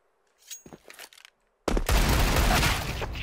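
Counter-Strike gunfire: a few quiet clicks and shots come first, then a sudden loud, dense burst of rapid fire carries through to the end.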